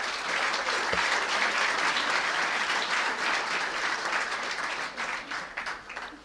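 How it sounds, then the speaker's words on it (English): Audience applause at a university student-athlete awards banquet for graduating seniors, forming a steady wash of many hands clapping in a large room that fades slightly toward the end. "let's have a big round of applause for all the graduating seniors"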